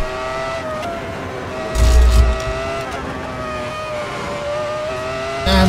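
A Ferrari F2004 V10 Formula 1 car at Silverstone in Assetto Corsa screams at high revs with a steady, loud, harmonically rich wail, broken by a brief deep rumble and shifting pitch as it changes gear.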